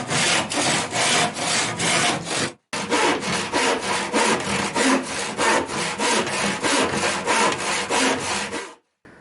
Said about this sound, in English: I've used a handsaw here because I think sometimes rather than trying to get it in position on the chop saw